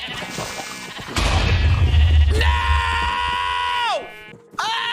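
Sheep in the Minecraft video game bleat loudly in long, wavering cries, one drawn out for over a second and another starting near the end, after a burst of low rumbling and a voice exclaiming.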